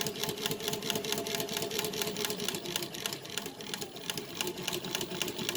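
Chain stitch embroidery machine running steadily, a fast even mechanical rattle of rapid stitches that stays close and continuous throughout with no pauses.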